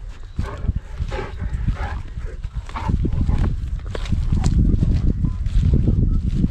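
Dogs in Pakistan bark loudly and repeatedly, the barks overlapping in a dense, continuous outdoor din with no pauses.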